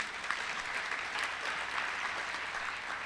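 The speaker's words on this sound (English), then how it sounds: "let's give him a round of applause" A dense, steady round of audience applause at the finals of an annual MLK Jr. oratory competition, a continuous wash of many hands clapping at even loudness, with no voices.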